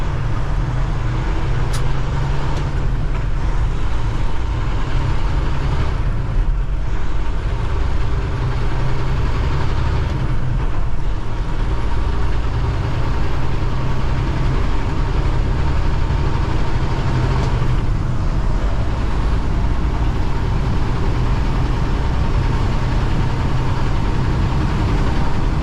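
A Cummins X15 engine in a truck drones steadily from inside the cab, a dense low rumble with a faint rising turbo whine, with no talking.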